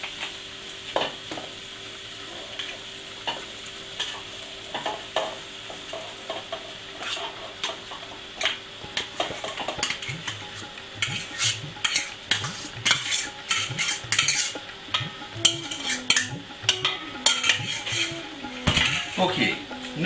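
A spoon stirs and scrapes in a pan as cooked potato is mixed into a prepared seafood mix for Sri Lankan frikkadels, with repeated close clinks and scrapes of metal against the pan and a soft sizzle beneath.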